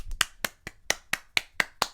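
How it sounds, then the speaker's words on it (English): Hands clap about nine times in a steady, even rhythm, each clap sharp, close and fairly quiet, with no other sound between them. "Round of applause."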